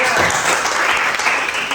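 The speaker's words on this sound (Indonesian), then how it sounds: "Tepuk tangan dulu untuk teman-teman" Students in a classroom clap for their classmates in a short, busy burst of applause, with a voice audible among the clapping.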